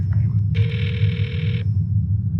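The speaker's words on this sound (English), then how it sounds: "I'll dial her phone number right now and see if we can get her on the phone" A telephone rings once on the line after a number is dialed during a radio call-in show, a single bright electronic ring lasting about a second over a low background hum.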